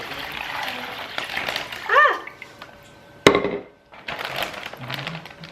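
Cold water poured into a container for a pork shoulder brine in a home kitchen, soft splashing in short bursts with a sharp clunk midway and quiet gaps between.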